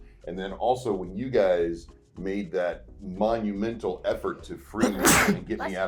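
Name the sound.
sneeze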